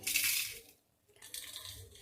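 Cooled dry ingredients for a poppy seed spice powder rattle and clink into a mixer jar in two quick pours separated by a brief silence, close and fairly soft.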